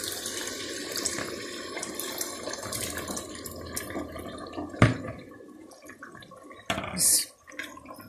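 Water is poured into a pan of frying mutton koftas in a home kitchen, a steady splashing trickle that fades, followed by a few utensil knocks and a faint voice.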